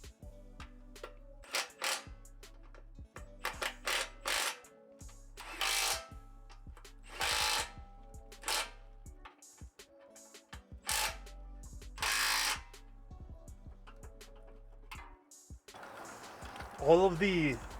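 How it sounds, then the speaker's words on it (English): Bolts on a Motobilt Crusher Series rear bumper being tightened into a Jeep Wrangler JK frame with a power tool, in short separate bursts and ratcheting clicks, with quiet pauses and occasional talk between them. "So I'm going to tighten these two down first because they actually thread into the frame"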